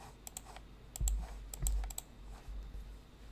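Sporadic keystrokes on a computer keyboard during Linux kernel coding, a few scattered clicks and short bursts with pauses between, quiet and close, with faint low thumps underneath.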